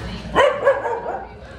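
An Irish setter barks inside a parked car outside a cafe, giving two sharp close barks in quick succession over a soft background murmur.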